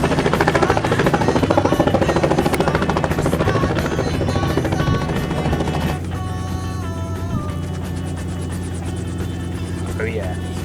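A helicopter arrives over the Okavango Delta, its rotor chop and turbine whine loud and close at first, then steadier and slightly farther off, with people talking underneath.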